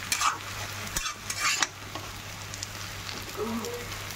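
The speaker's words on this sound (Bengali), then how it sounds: "ভালো করে একটু ফ্রাই করে নিয়ে এর মধ্যে একটু সসটা দিই, তারপর ভালো করে ফ্রাই করি।" Tomato sauce being stirred into frying chowmein in a pan, with a steady soft sizzle, scraping stir strokes and a few clinks of a utensil against the pan, close by and alone.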